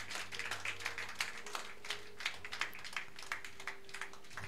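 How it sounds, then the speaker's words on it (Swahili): Applause for a church praise team, sparse, fairly faint clapping with distinct individual claps in an uneven rhythm over a low hum, from a small congregation. "Makofi mengi kwa Praise."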